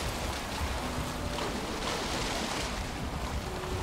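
A sailing boat moves across open water in the video game Valheim, with a steady wash of waves and wind rushing under it. The sound is continuous and full, with no voices.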